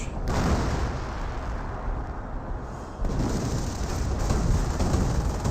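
A continuous artillery barrage in the video game Company of Heroes pounds on as a dense, rumbling wall of blasts and debris, loud and unbroken with a slight swell partway through.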